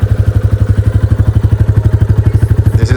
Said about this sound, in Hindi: this is the exhaust note